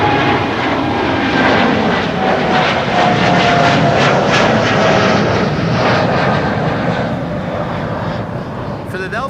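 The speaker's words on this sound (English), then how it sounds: "This is American Airlines 203 to Philadelphia, Pennsylvania, 7878 Dreamliner." An American Airlines Boeing 787-8 Dreamliner at Amsterdam Schiphol Airport, operating flight 203 to Philadelphia, gives a loud, sustained jet engine roar that swells slightly, then eases off toward the end.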